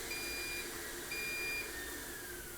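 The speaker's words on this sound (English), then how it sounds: "once you hear the alarm, you pass the test" A powered air-purifying respirator's airflow alarm beeping during a safety test, with steady high-pitched tones sounding twice in succession over a continuous fan hum.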